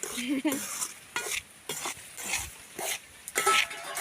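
Flour being sautéed in a pan for pidi kozhukattai, with repeated close scraping strokes of a spoon in short bursts and a soft sizzle between them.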